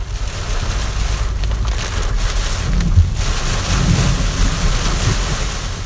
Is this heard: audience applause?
no